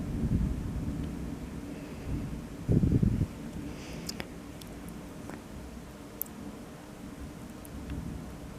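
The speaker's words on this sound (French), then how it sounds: "Un orage qui vient de l'ouest." Thunder from a dry storm approaching from the west over the Atlantic rumbles low and steady at a distance, with one stronger roll near the middle and light wind noise throughout.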